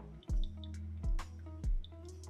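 Brazilian natural coffee drips through a filter into a cup in three distinct, evenly spaced plops, quiet and close, with faint small drips between them.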